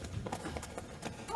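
Horse hooves clip-clop at an even walking pace under a monk riding through a street, faint and steady with soft background murmur.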